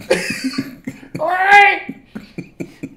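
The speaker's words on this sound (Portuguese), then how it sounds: "a gente utiliza esse ponto para induzir a tosse na pessoa" A person coughs as a point on the neck is pressed during a muscle palpation demonstration, several short rough coughs mixed with brief speech and throat sounds, close and fairly loud.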